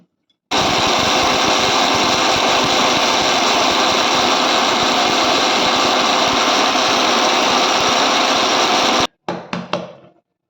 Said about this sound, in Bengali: প্রথমে 3 থেকে 4 মিনিট মিক্সচার চালিয়ে গুঁড়ো করে নেব।